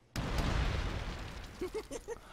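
A loud video game explosion from a Dota 2 BomberMan custom game bursts in suddenly and rumbles on for about a second, followed by a few quick electronic chirps.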